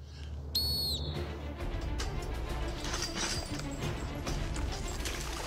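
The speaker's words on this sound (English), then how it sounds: "you'll be going on my whistle, Steve." A race official's starting whistle blown for a head-to-head obstacle race with trenches and a tie wall, a shrill high tone of about half a second near the start, followed by loud outdoor crowd noise and commotion.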